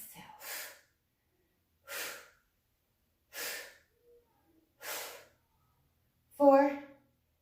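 Five audible breaths during a Pilates leg-circle exercise, forceful exhalations that come at a steady interval of about one and a half seconds, close and fairly quiet. The last breath is louder and more voiced, with a snort-like quality.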